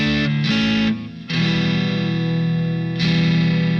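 Sonicake QGT-01 acoustic guitar with built-in effects and its own pickup, strummed chords ringing out with a processed, chorus-like shimmer, loud and close, with short pauses between strums and no talking.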